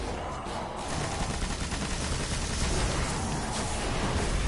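Dense, sustained gunfire from an online shooter game, Destiny on PS4, with continuous rapid bursts that blend into a loud wash of shots and effects throughout, with no pauses and no talking.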